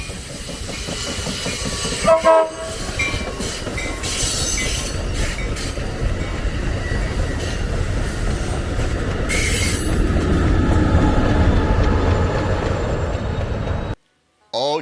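A small railroad speeder, a track crew maintenance car, rides the Niles Canyon Railway with a steady, loud rumble of wheels on rail, a brief louder clank near the start, and a sudden cutout just before the end.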